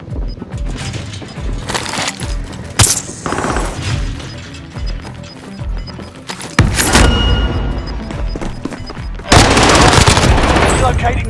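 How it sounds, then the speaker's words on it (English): A precision airstrike and gunfire in Call of Duty: Modern Warfare: loud, rapid machine-gun bursts and heavy booming blasts pile up in dense waves, with big explosive surges near the middle and end. "Allied precision airstrike incoming."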